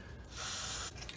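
A short hissing burst from an aerosol spray can, sprayed into the rusty cab corner of a Ford F150 truck, sounding as one steady close spray of under a second.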